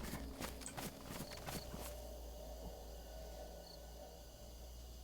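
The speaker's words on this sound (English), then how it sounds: "I just hear footsteps over there." Footsteps in DayZ: a quick run of sharp, fairly close steps over the first two seconds, then quieter footfalls under a steady hum of insects and outdoor ambience.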